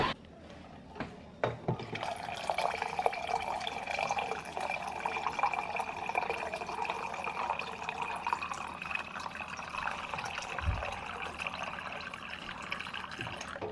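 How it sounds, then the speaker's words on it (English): Water runs from a tap into a bottle, starting after a few clicks and handling knocks. The stream is steady and close, and a faint rising tone comes in as the bottle fills. "I'm going to fill up my water because I'm trying to drink more water."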